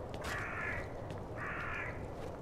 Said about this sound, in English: Well, there's the crows.